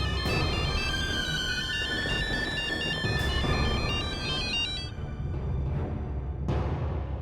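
A phone ringtone plays steadily and loudly as a repeating electronic melody, continuing for several seconds with no one speaking over it.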